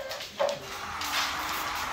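American Bully puppies, nine weeks old, give a short yip and then keep up soft whimpering close by, with no talking.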